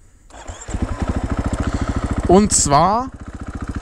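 A KTM EXC 500 supermoto motorcycle engine cranks, fires and settles into a loud, close, rhythmic thumping idle with a brief rev, while someone talks over it.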